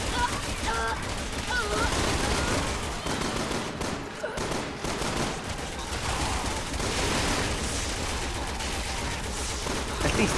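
Continuous gunfire in Resident Evil 6 co-op play, dense and loud throughout, with players talking over the shooting and other game noise.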